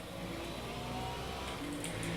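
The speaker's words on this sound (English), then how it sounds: "The Ferrari sounds like a sewing machine." Ferrari race car engine in a racing video game, a steady high-pitched whirring drone that holds constant and loud throughout with no gaps, no voices over it.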